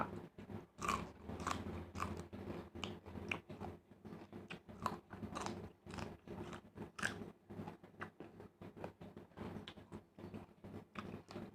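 Someone eating spicy Thai-Lao instant noodle salad (yum mama), with repeated close crunchy bites and chewing in an irregular rhythm, fairly quiet, no talking.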